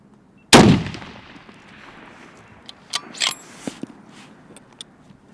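A single loud rifle shot cracks close by at a long-range shooting session with a $2,000 rifle, its report fading into a rolling echo, followed by scattered faint clicks and rustles of handling.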